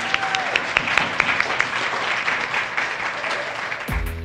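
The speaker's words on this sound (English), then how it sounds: "One more round of applause" Audience applause at an instructors awards gala, a loud sustained clapping with a few sharp nearby claps standing out, continuing throughout before a brief music sting at the end.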